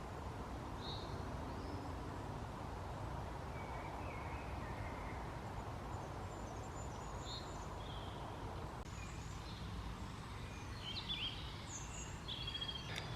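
Scattered bird calls, including a few caws and chirps, ring out from the trees around a tent camp, faint and intermittent over a steady low background rush.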